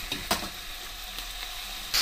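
Chicken for teriyaki sizzles steadily in a hot pan, frying until golden brown, with a constant hiss and a few brief stirring clatters.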